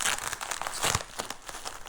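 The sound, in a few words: unwrapping bubble wrap packaging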